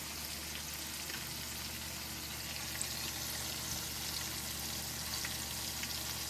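Fish frying in a pan, a steady, close hiss of sizzling oil running evenly throughout with faint crackles and no voices.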